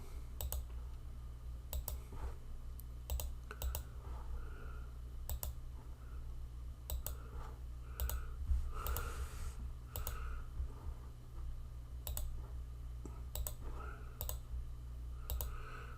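Computer mouse clicks while filling shapes with colour in Adobe Illustrator: a steady run of sharp, close clicks at an uneven pace over a low hum, with quiet talk underneath.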